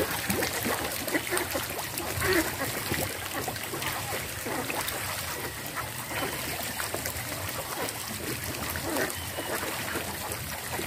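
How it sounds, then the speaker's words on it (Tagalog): Clear, deep stream water rushes with a strong current, a continuous broadband flowing wash with no speech. "malinaw na yung tubig dito at malakas na yung agos din niya"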